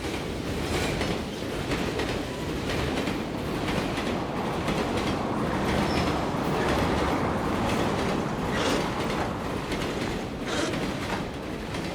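A train rumbling and clattering steadily along the rails, wheels clicking rhythmically, loud and close throughout.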